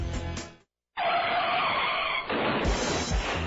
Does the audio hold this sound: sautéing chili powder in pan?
no